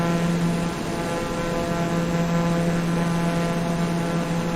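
Steady, loud propeller airplane drone inside the cabin during the climb after takeoff, a constant engine tone with no clear separate sound of the landing gear retracting.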